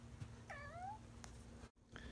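A cat hidden under a rug gives one close, rising-and-falling meow over a steady low background hum, then everything goes briefly quiet.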